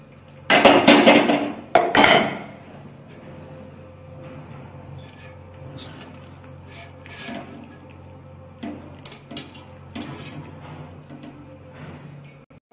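Cooked spinach tipped from a pot into a colander in a home kitchen. It opens with two loud bursts of metal clattering and rushing liquid, then thins to sparse clinks and small knocks over a low background hum.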